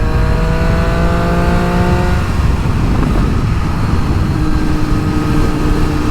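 KTM 765 RS motorcycle with an Akrapovic exhaust, baffle fitted, rumbling loudly and steadily throughout, engine note shifting as revs drop and build, close and continuous with no talk.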